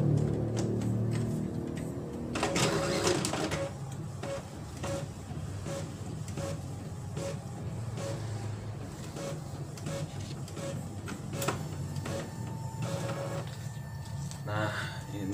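An Epson L3110 printer makes a copy, its rollers and mechanism whirring steadily with intermittent clicks and shuffles, while a person talks quietly over it.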